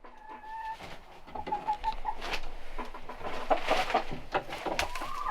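Several hens cluck and coo nearby inside a chicken coop, with soft, irregular calls overlapping throughout.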